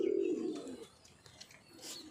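Pigeons kept for sale cooing close by, a soft low burble at the start that fades into quieter chirps and faint rustling.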